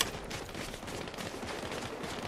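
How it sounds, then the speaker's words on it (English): Fortnite gunfire crackles as a dense, continuous volley of overlapping shots, steady in loudness and somewhat distant, with no talking over it. "Oh, I hear gunfire."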